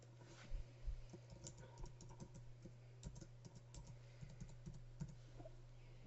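Steady run of keyboard keystrokes as someone types a login on a computer, uneven taps with occasional heavier presses over a low constant electrical hum.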